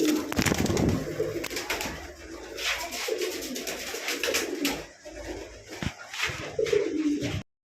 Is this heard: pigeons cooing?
yes